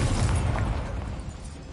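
A fiery Incendio spell bursts in the Hogwarts Legacy video game, one loud close whoosh and boom that fades over under two seconds, with no voices.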